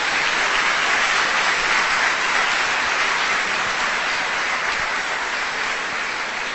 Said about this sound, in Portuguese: Dê uma salva de palmas para o nosso Senhor Jesus.